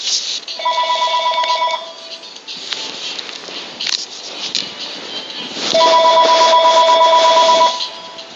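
A telephone rings loudly in the room during a recording, two bursts of a trilling electronic ring separated by a pause, with background clatter and noise.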